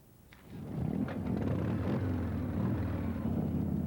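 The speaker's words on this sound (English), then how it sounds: "The thunder of more than 500 motorcycles could be heard all over Fiesta Island this morning" A deep engine rumble swells in within the first half second, then holds as a loud, steady roar of more than 500 motorcycles idling and revving together on Fiesta Island, San Diego, in 1992.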